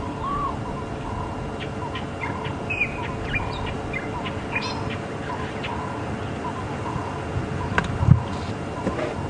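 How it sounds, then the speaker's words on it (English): Cape turtle doves coo nearby among other chirping birds, their calls repeating over a busy, steady outdoor background at Djuma Game Reserve. "Some Cape turtle doves calling nearby."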